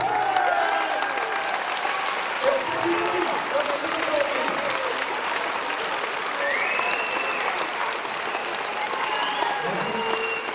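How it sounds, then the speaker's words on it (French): Children at a mini-basketball festival clap together in sustained, dense applause that holds at a steady loudness throughout, with scattered voices and shouts mixed into the crowd. "On se lève, on applaudit, c'est la meilleure façon de faire merci."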